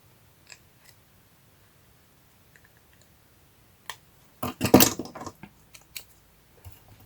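Scissors cut challenge paper in a short burst of close snips and clicks, with scattered quieter clicks before and after in a quiet room.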